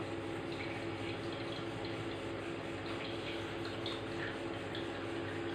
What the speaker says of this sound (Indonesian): Kemudian kita buka keran air dari tangki utama.